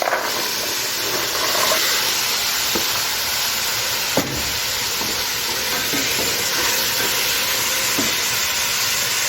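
Beans fry with garlic in a pot, with a steady loud sizzle and hiss throughout and occasional scraping knocks as the mixture is stirred.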